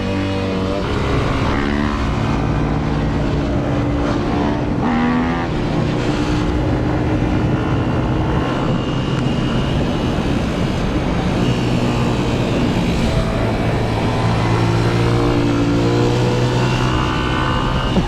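A dirt bike engine roars loud and constant at full throttle in high gear on sugar cane trails, droning and revving continuously with wind rush over the whole stretch.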